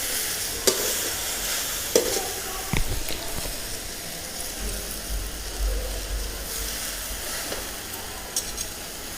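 Taro (arbi) leaves sizzle and fry in a hot pan while being stirred, with a steady hiss and a few sharp scrapes and knocks of the spoon against the pan.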